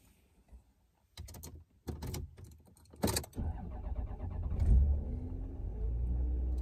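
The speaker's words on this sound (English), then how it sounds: "even though the car is almost 20 years old, but that's how the ignition sounds" An almost 20-year-old car is started: a few clicks and thumps, then the engine cranks and catches, settling into a steady close idle that swells briefly as it fires up.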